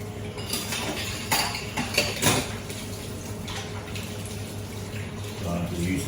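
Running tap water splashes over a bowl being rinsed, with clinks of dishware and a few louder knocks, steady close-up washing sounds throughout with faint speech in the background.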